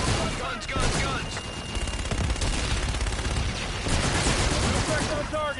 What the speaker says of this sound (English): Inbound for gun run. Guns, guns, guns.